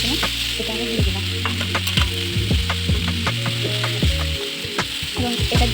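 500 grams of milk goes into a hot pan of cooked-down tomato and jaggery for a homemade amla sour dish, setting off loud, close sizzling and bubbling broken by repeated scraping stirs.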